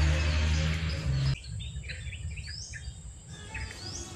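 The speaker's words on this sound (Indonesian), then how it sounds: "banyak suara-suara burung" Many birds chirp and trill close by in a quiet, shady spot beside murky water, after a loud low rumble in the first second cuts off.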